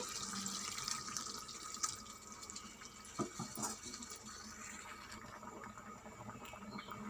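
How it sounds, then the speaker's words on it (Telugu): Water is poured into bottle gourd masala curry in a pan, a quiet close splash and trickle with a few brief clinks, steady throughout. "ఇప్పుడు కొద్దిగంత వాటర్ పోసుకుందాం"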